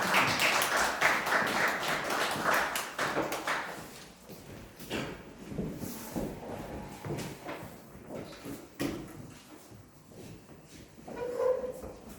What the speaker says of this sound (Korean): 일단 박수 부탁드리겠습니다.